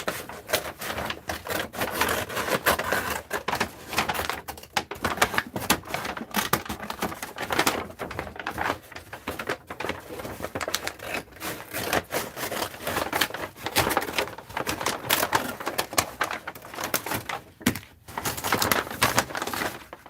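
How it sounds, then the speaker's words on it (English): Continuous crinkling and crunching of a stiff paper sack being cut apart and handled, busy and close, with no talking. "it's gonna be some crunchy, wrinkly sounds until I get it cut apart here"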